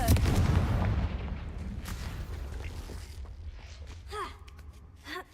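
A Confringo blast spell in Hogwarts Legacy, a loud booming explosion at the start that rumbles and fades, followed by scattered game effects and a faint voice.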